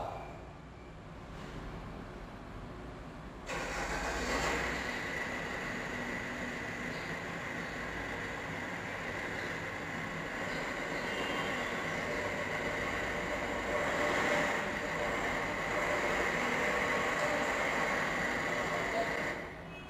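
A car engine runs and grows louder after a few seconds, a steady rumbling drone that swells and eases as it passes nearby.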